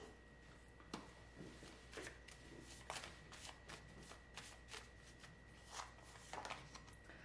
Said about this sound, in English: Let's go ahead and pull these cards.